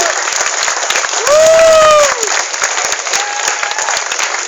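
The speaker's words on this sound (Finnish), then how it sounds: "Annetaan vielä raikoon aplodit." Spectators at a chicken wing eating championship break into loud applause and cheers for the winner, with a whistle-like rising tone cutting through the clapping midway.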